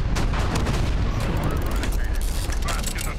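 Dense, continuous gunfire and explosive booms in a mech video game, loud and close, filling the whole moment with overlapping shots.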